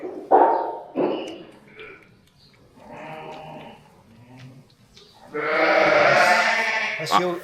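Ewe and lambs bleating during lambing on a sheep farm, with several loud close bleats, softer calls, and a long strained bleat near the end.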